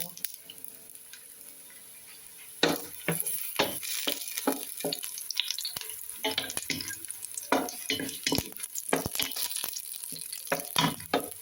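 Garlic sautéing in a pan for a Filipino vegetable pinakbet, starting with a quiet hiss and then breaking into steady sizzling crackle with repeated scraping stir strokes, fairly close and with no talking.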